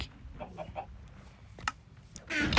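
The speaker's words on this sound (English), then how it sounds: "Okay, next up is the rooster, the moon hawk." Rooster from a Minecraft bird mod, clucking and squawking in short bursts with a louder crowing call rising at the end, close and clear over a quiet background.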